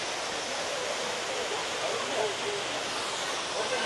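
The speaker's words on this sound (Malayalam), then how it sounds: "മുകളിൽ നിന്നുള്ള വെള്ളച്ചാട്ടം കൊണ്ട് കയറി പോന്നു." Waterfall at Wadi Dafta near Masafi pouring down from above, a dense, steady roar heard close and unbroken, with a faint voice under it.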